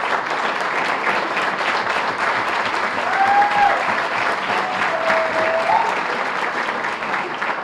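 Applause from a banquet audience at a high school basketball association's annual awards dinner, honoring players. Steady, dense clapping from a large crowd fills the whole stretch, with a brief whistle or two rising above it.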